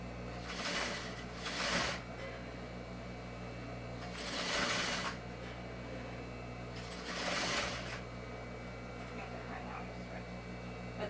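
Sewing machine stitching an elastic waistband onto a skirt, three bursts of close whirring stitching separated by pauses, with a low steady hum beneath.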